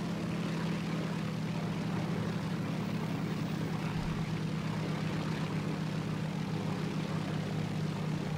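A propeller-driven fighter plane in the War Thunder combat flight game drones steadily with engine noise throughout, a continuous low hum with no pauses and no talking.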